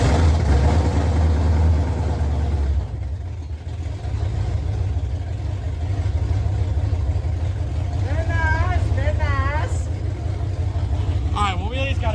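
An old Ford OBS pickup truck engine runs at a steady, low, rumbling idle close by for the whole stretch, with voices talking over it.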